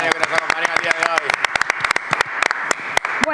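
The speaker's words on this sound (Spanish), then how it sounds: "Fuerte el aplauso para Graciela Camaño, que nos acompaña el día de hoy." An audience applauds a guest on a television studio program, steady dense clapping with sharp individual hand claps standing out near the front, continuing alone for a few seconds.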